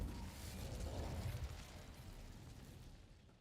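A fiery spell cast in a video game: a soft whooshing burst of flame that swells and then fades into a low rumble, heard alone at moderate volume.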